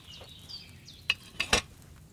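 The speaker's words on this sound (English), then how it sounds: "Hear that bubbling? It's boiling." A cauldron bubbles over a flame in Kingdom Come: Deliverance II, with a few distinct pops over a quiet background and faint high tonal wisps.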